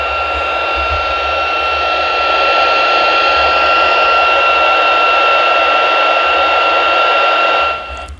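Steady loud hiss of open-squelch static from an Eracom RC-68 Plus two-way radio with faint tonal hum, continuous for several seconds before cutting off abruptly at the end.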